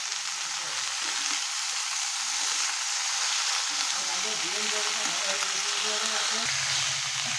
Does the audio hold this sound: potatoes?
yes